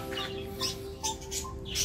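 Pet birds chirp in a breeding cage built for two pairs, giving a few short, high tweets in scattered bursts over a steady low electrical hum.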